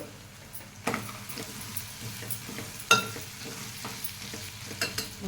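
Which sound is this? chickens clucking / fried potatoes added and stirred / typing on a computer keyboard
fried potatoes added and stirred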